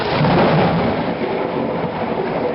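Sudden monsoon downpour at a late-night Navratri festival gathering, a dense roaring wash of rain with a low rumble, steady and loud throughout with no voices.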